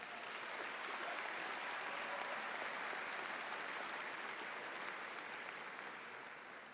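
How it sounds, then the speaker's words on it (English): A large crowd at a high school graduation ceremony applauds its student speakers, a broad continuous roar of clapping that swells in and holds steady, then fades slightly at the end, heard from a distance. "would you all give all of our student speakers a round of applause today?"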